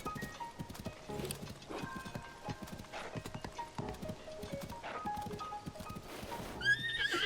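Rhythmic hoofbeats of a horse trotting, with a whinny near the end, set against a background of game music from Zelda: Tears of the Kingdom.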